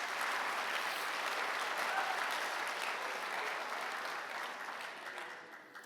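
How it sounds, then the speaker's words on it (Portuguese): Church congregation applauding the preacher, a dense, steady wash of clapping hands that holds strong and fades slightly toward the end. "Dá um aplauso aí para o pregador acreditar que está boa a mensagem."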